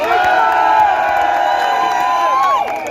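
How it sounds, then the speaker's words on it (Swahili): A political rally crowd cheering and whooping for Ovis, a loud, sustained mass of voices with shrill shouts rising over the roar for nearly three seconds before easing slightly at the end. "Wapi makofi ya Ovis?"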